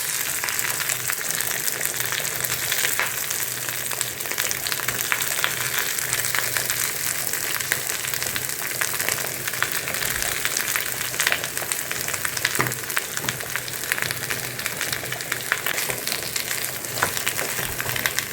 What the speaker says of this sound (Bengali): একটুখানি ফ্রাই করে এবারে এই ম্যাশ পোট্যাটোটা দিয়ে দিচ্ছি।